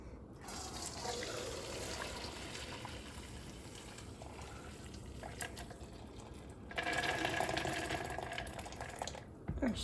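Water strained off soaked popcorn kernels, a steady pouring and trickling wash that grows louder and heavier toward the end, with no talking.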